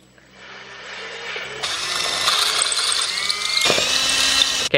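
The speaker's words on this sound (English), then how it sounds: "I just got this drilled. All I did was just clear the threads out." A power drill clears old threads out of the starter mounting holes on a Speed 6, whirring steadily and rising in pitch, loud and close with no talk.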